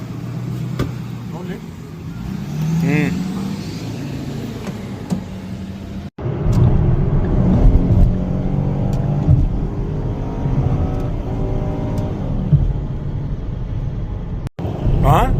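A car driving along a desert road in Texas hums steadily from inside, the engine note rising and settling over a low road rumble while people talk over it.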